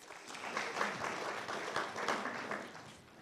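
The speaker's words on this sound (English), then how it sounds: "Give them a round of applause." A small crowd applauds, a brief burst of steady clapping that swells and then tapers off.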